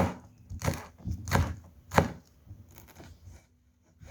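Knife chopping spring onion, celery, carrot and cabbage on a cutting board, a few sharp separate knocks with pauses between, close and alone with no talk.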